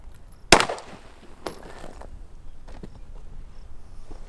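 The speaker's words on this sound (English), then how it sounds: "let's shoot it with the 9mm." A single sharp, loud 9mm pistol shot fired outdoors near the mic, with a short echoing tail and faint background afterward.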